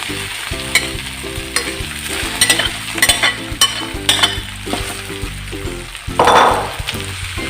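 Leftover rice is stir-fried in a pan, a loud hissing sizzle cut by rhythmic scraping and tapping of a spatula, with a brief louder burst of hiss near the end, close and with no talk.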